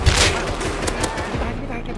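Rapid bursts of gunfire in the survival game Rust, sharp shots crackling close and loud over a continuous background din, with a voice faintly present.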